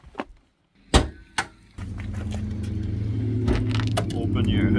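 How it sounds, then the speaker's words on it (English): Sharp clicks and a latch pop sound as a car hood is released and lifted, followed by a steady engine-like hum. Someone talks over part of it. "pop your hood"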